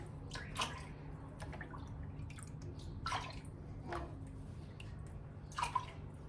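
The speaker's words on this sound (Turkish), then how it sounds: "Hemen ben şöyle fazla suyunu kabıma boşaltın." Excess whey draining from a cloth bag of homemade brine cheese into a bowl, heard as faint scattered drips and small splashes over a low steady background hum, with a few clearer trickles near the end.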